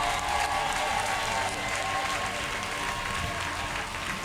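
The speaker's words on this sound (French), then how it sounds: "Lève-toi pour acclamer fortement le Saint-Esprit." A church congregation applauds and cheers loudly for the Holy Spirit during a prophetic worship moment, a dense, continuous wash of clapping and crowd voices that stays strong and then eases slightly.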